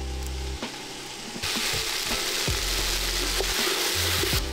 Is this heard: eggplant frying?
yes